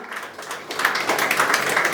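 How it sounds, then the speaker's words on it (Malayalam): Applause from an audience at an award ceremony for a world-record event, starting quietly and swelling into steady, dense clapping after a brief lull. "കൈയടിക്ക് ശക്തി പോരാ, നല്ലൊരു കൈയടി ആയിക്കോട്ടെ."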